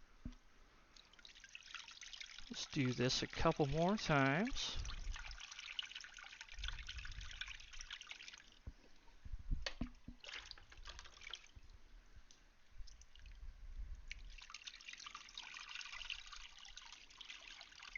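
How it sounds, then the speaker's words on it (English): Water is poured from a pitcher over a hand into a fish tank, giving intermittent splashing and trickling in bursts, with a short rising filling tone and a person speaking briefly between pours. "So I just put my hand down in here like so and pour the pitcher right on top of my hand"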